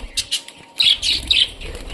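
A male spangle rainbow budgerigar flaps its wings in short, fluttering bursts close by, with a few quick rustling flurries and no speech.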